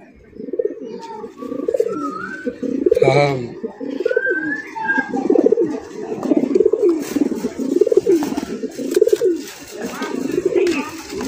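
Sky-blue female pigeon cooing close by in a repeated rhythmic series of low throaty coos, with someone talking over part of it and some faint chirps in the background.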